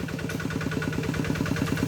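Close, rhythmic chugging from a Kubota RT90 walk-behind tractor working a paddy in Sakon Nakhon, its single-cylinder diesel beat running fast and even with a rattling mechanical edge.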